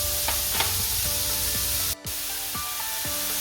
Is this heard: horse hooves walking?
no